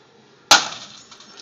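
A 3 lb sledgehammer smashes a CRT monitor in one sharp, loud glass crash, followed by a brief fading tinkle of settling shards.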